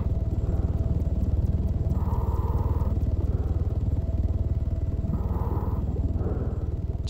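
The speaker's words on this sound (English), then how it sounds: "Sounds like the helicopter." Helicopter in the video game Arma 3, a continuous loud rotor drone with rapid rhythmic chopping and a steady engine hum throughout.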